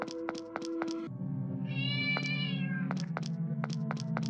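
A cat meows in the horror video game Mad Father, a drawn-out tonal cry over a low droning game soundtrack, with sharp percussive knocks at steady intervals before and after.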